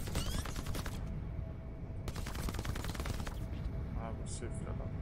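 Rapid automatic gunfire in the video game Crackdown 3, loud dense bursts of machine-gun fire in two long volleys with a pause between, followed by a few electronic effect sounds.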